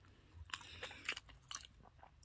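Crispy Korean fried chicken with garlic is bitten and chewed up close, several quiet crunching bites in an irregular rhythm, with no talking.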